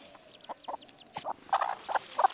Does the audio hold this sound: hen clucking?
yes